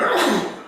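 A single sudden sneeze bursts out close by, loud at first and fading within a fraction of a second.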